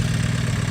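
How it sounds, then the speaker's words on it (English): A tractor with a power rake attached idles, giving a steady low engine rumble with a fast, even pulse, close and constant for the whole short stretch. "I'm going to take this tractor with the power rake"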